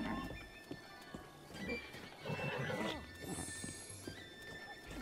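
A horse in the Breath of the Wild video game neighs and whinnies over steady clip-clop hoofbeats while riding, with game ambience and people talking over it.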